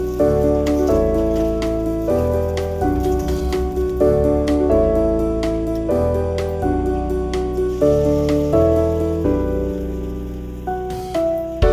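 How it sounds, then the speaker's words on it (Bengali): Small tikia-style uttapam fry in a pan with a constant, rain-like sizzle that runs throughout under prominent background music, with no speech. "একটু ছোট ছোট করে টিকিয়া স্টাইলে ভেজে নেব"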